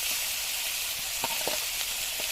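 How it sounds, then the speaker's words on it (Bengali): A fish fries in hot oil in a wok set on a stove, giving a loud, continuous hiss with a few faint crackles popping through. "দেখো কড়াইটা উনুনে বসানো হলো তেল দেওয়া হলো আর দেখো মাছটা এখন ভাজছি"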